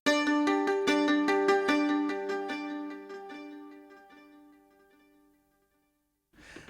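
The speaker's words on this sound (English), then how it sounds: "free Labs libraries, the Mandolin, fabulous sounding libraries" Two interlocking sampled mandolin parts from a Labs plugin, one panned hard left and one hard right, pick out rapid tremolo-like repeated notes that thin and fade into silence before a brief rustle at the end.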